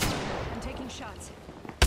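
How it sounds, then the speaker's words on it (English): Apex Legends gunfire crackles out as a single sharp, loud burst right at the end, after a long stretch of quiet game ambience with faint voice-like sounds. "I'm taking shots."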